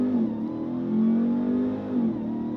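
A 2027 RAM 1500 TRX pickup engine roars hard as it launches from a standstill, loud and close, its deep revving tone rising and shifting with gear changes.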